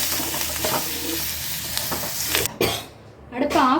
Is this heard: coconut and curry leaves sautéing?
yes